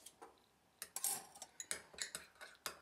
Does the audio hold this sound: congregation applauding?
no